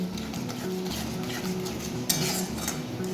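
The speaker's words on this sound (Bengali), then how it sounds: "সবটাকে খুব ভালো করে মিক্স করে নেব" Salt and turmeric being mixed into ingredients in a pan, with continuous stirring clinks and scrapes over a low sizzle, one louder knock near the end.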